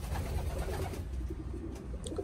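Racing pigeons coo steadily in a loft, a dense low murmur of several birds close by with no voices over them.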